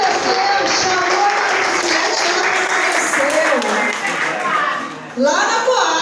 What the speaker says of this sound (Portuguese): Aplauda de novo, gente.